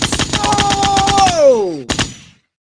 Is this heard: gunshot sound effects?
yes